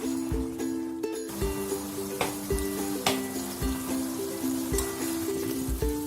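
Egg chilli sauce sizzles and simmers in a pan, a soft steady bubbling hiss with light clinks from a utensil every second or so, faint and without speech.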